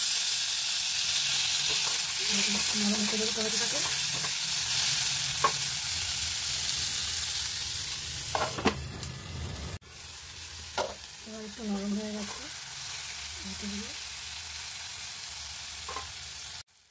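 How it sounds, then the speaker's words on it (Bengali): Potatoes and tomato fry in a pan for a vegetarian banana-flower dish, a steady close sizzle running the whole time with occasional stirring scrapes, and someone speaks briefly over it. "এবার এটা একটু ভাজা ভাজা হোক, তারপরে এই টমেটোটা দিয়ে দেবো।"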